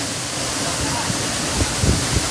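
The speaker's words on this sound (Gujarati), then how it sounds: "જો ભાઈ સરસ મજાનો ધોધ છે અને નાય છે" Bhalkhet waterfall near Vyara pours with a steady, broadband rushing roar, a constant wash of water noise with faint voices of visitors underneath.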